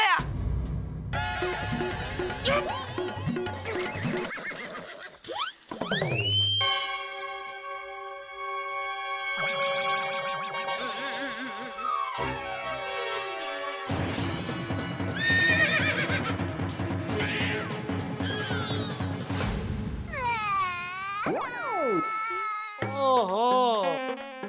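A horse neighs in an Indian TV comedy scene, with several loud, wavering whinnies rising and falling against dramatic background music and sound effects.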